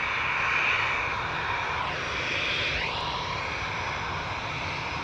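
An airliner climbs away from Amsterdam Schiphol with a sustained engine roar, its whine sweeping down then up as it passes, fairly distant and steady with no voices.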